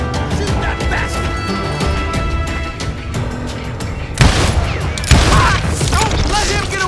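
Gunshots crack out in the Call of Juarez Gunslinger video game, two sharp loud bursts over a busy layer of game music and effects.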